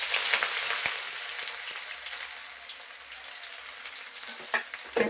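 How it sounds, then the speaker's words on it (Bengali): Chopped onion sizzles steadily in hot oil alongside cumin seeds and bay leaf, a close, continuous crackle with a few louder pops near the end and no voices. "পেঁয়াজটা ভাজা ভাজা হয়ে গেছে"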